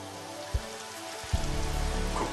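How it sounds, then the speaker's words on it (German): Rain falling in the Final Fantasy XV Platinum Demo game, a steady broadband hiss of drops on surfaces with a couple of soft low thumps, continuous and fairly close, no voices. "aber ich möchte mal ein bisschen Regen."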